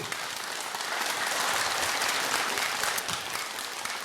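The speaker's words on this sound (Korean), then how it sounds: "내가 법문할 땐 강한 박수는 치지 마라." Audience at a Jogyesa temple dharma talk breaks into dense, sustained applause, a steady wash of many hands clapping close and loud without pause and with no voices.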